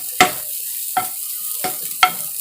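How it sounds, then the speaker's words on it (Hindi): Egg bhujiya fries in a pan as a spoon stirs it in four separate scraping strokes about half a second apart, each set against a soft, steady sizzle. "अब इसे थोड़ा सा और भूनेंगे 1 से 2 मिनट तक, और इसे बीच बीच में चलाते रहेंगे"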